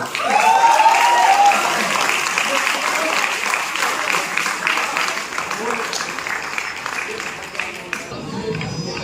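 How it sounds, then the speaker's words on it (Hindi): Audience at a university poetry recital claps to welcome a guest, sustained crowd applause that starts loud and slowly eases, with voices faintly underneath. "इन्हीं पंक्तियों के साथ आपकी तालियों के बीच स्वागत करना चाहूंगा अतिथि कपिला का।"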